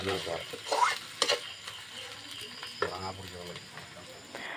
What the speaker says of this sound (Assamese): মাংসখিনি ধুনীয়াকৈ এতিয়া ভাজি ল'ব লাগিব।